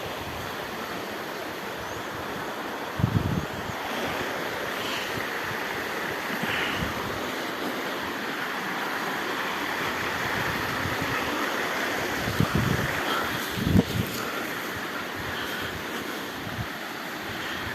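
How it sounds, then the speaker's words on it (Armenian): A small river runs nearby in a steady, rushing wash of water that fills the whole stretch, with a few brief thumps breaking through around it. "Կողքով էլ այս գետակն է հոսում"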